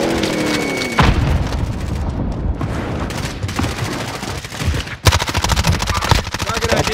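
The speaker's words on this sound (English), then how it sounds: "Throwing grenade." A grenade goes off in the Warzone battle royale shooter, a sharp blast among rapid gunfire bursts and booms, loud and close, with a sudden explosive hit near the five-second mark.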